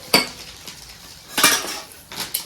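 Steel glasses and kitchen utensils clink and clatter together at close range in three bright, sharp bursts, with quieter handling in between and no voices.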